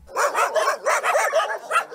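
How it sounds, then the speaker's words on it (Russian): Dogs bark repeatedly in a municipal animal shelter holding many caged dogs, a dense overlapping chorus of close, loud barks and yips sounding without pause, with no talking. "В клетках 150 собак."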